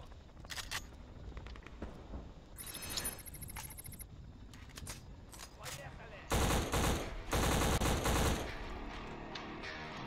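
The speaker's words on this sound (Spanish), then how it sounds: "hay que disparar" Shotgun blasts and gunfire in the video game Black come as sharp, scattered shots, followed by two louder, longer bursts of rapid fire near the end over a quiet hiss.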